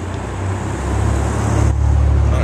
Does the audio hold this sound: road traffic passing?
yes